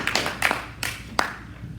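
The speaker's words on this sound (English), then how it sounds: "Let's give them another round of applause" Scattered handclaps from a small congregation at a church service, a few sparse separate claps echoing in the room, quiet and thinning out rather than building into full applause.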